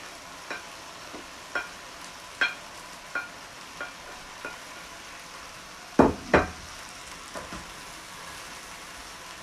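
Sausages frying in a pan give off a low continuous sizzle, while a spoon or spatula knocks and scrapes against the pan in regular taps, with two heavier clatters midway; no one speaks.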